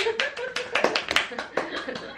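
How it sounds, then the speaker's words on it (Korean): Several pairs of hands clap in a quick, uneven burst among a group of friends making wand crafts, close and moderately loud, with voices murmuring between the claps. "박수 소리 잘 들었습니다"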